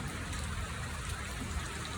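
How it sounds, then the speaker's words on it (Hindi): Outdoors in Shorkot, rain falls while the sun shines, producing a constant, fairly quiet patter and hiss of drops. "धुप भी निकली हुई है इसी साइड तो सारी, तो बारिश भी पै रही है।"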